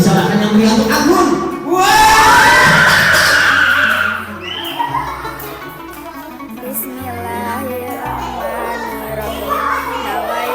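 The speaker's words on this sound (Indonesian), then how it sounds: "Beri sorakan yang meriah untuk Anggun" Children and an audience shout and cheer for a young girl at a school or religious-class event, a loud burst that settles into lively chatter and scattered calls.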